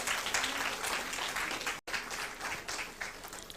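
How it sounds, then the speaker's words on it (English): Audience at a women's day event applauding speakers, a steady dense patter of many hands broken by one abrupt instant of silence midway before the clapping resumes. "We should give a big round of applause for them."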